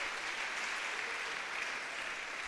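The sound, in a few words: church congregation applauding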